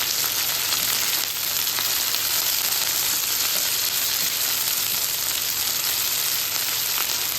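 Moringa (drumstick) leaves fry in a pan with a steady, dense sizzle that holds evenly throughout, with no talking.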